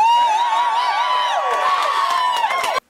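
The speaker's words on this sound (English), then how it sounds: "Senator Jon Tester appeared before a rowdy crowd of exhausted supporters" A rowdy crowd of exhausted supporters cheers and whoops at an election-win rally for Senator Jon Tester, a loud, sustained roar of shouting voices that cuts off abruptly at the end.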